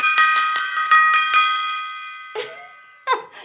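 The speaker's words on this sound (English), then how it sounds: "And I take up my little gong here." A small handheld gong is struck rapidly in celebration, several quick bright metallic hits ringing into a long shimmering decay, then two more separate strikes that ring out near and loud.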